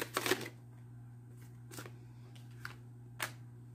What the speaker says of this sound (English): Let me shuffle for the last one